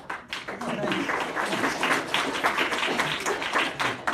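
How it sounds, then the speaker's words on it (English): A room full of people at a legislative briefing claps steadily throughout, a dense and fairly loud patter of hands that holds without a break from start to end. "I know you're really applauding for Susie."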